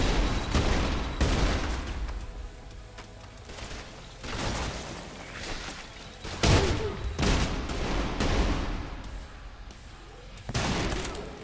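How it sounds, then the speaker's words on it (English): Trepang2 first-person shooter combat, with dense bursts of gunfire, loud booming blasts and flashbang bangs arriving in uneven volleys, close and heavy, with occasional speech mixed in. "Flashbangs."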